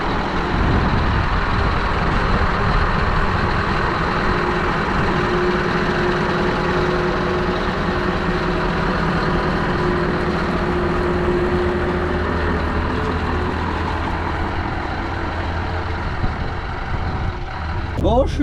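A Scania V8 truck rolls along, its deep engine rumble steady and close for the whole stretch, with a short squeal near the end.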